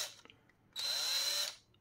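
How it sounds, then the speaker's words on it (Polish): A power drill with a 6 mm bit bores a hole in glued cores for a valve head, giving one steady high whine of under a second after a brief quieter buzz. "Tutaj przewierciłem wiertłem FI6"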